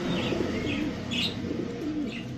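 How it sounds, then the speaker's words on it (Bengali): Kaldom pigeons, a breeding pair, coo softly nearby in a few repeated low calls, with faint chirps and no voices. "খুবই সুন্দর একটা কবুতর, কালদম একটা পেয়ার।"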